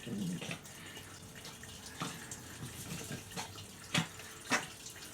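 Fluid drains from a DR650 motorcycle into a pan as a faint, steady trickle, broken by a few louder drips and splashes.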